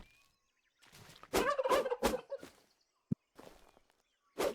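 Turkeys gobble in the survival building game Tribe Primitive Builder: a few loud, warbling gobble bursts in close succession, then a short sharp thump and two more gobbles set against near silence.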